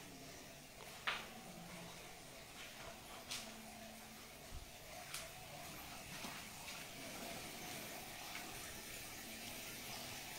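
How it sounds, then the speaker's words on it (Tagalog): Water flows strongly and steadily inside an old, reportedly haunted hospital building. The faint, continuous rushing is broken by a few soft knocks. "Maagos yung tubig dito."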